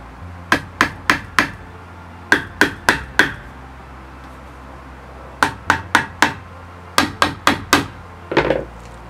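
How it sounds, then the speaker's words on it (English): Sharp hammer taps on screw heads, marking a bed frame in a 2018 Ram ProMaster van, come in quick groups of four, repeated several times with short pauses between bursts, close and crisp. "I'm just gonna tap it with the hammer a few times"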